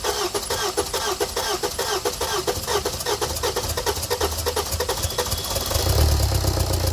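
A BMW car engine cranks and runs in a repair workshop, a close, loud, rapid knocking rhythm with a deep rumble that swells near the end.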